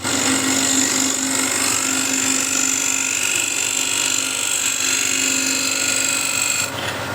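A wood lathe spins a blank at about 1400 RPM while a standard scraper cuts it, giving a loud, steady whirring hum with a continuous high-pitched tone, close up and unbroken, easing off briefly near the end.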